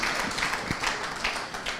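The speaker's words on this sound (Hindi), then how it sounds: "तालियों के साथ उनका जोरदार स्वागत" An audience claps to welcome Madhya Pradesh Chief Minister Shivraj Singh Chouhan at an event, a short burst of steady, moderately loud applause.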